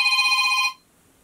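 A telephone rings with a bright electronic trill that pulses steadily for under a second and then cuts off, leaving near silence.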